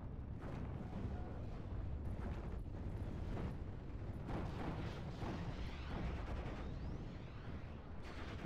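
Nebelwerfer rocket artillery barrage striking a tree line in Steel Division: Normandy 44, a steady faint rumble of repeated explosions and thuds rolling on without pause, distant rather than close.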